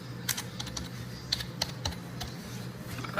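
Keys clack at an irregular pace on a computer keyboard while a spreadsheet is edited, soft and close against a low steady hum, with no voices.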